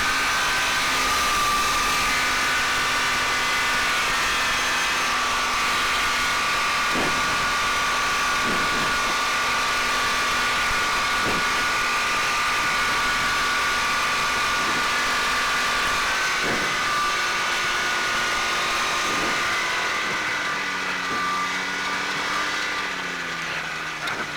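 Steady drone of a Challenger 2 ultralight airplane engine running on a bumpy runway, loud and continuous with a few rattling bumps and a slight pitch change near the end.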